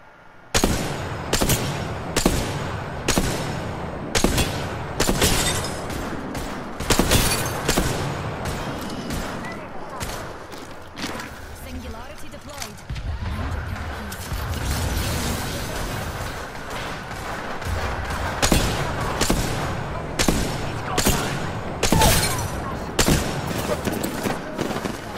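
Gunfire from the battle royale game Apex Legends, with repeated sharp weapon shots in bursts and single cracks across a continuous busy game mix, close and fairly loud throughout.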